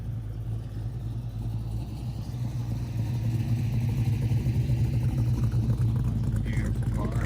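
A classic car's engine idles at a car cruise with a steady, deep, low rumble close by, growing slightly louder partway through, with crowd murmur in the background.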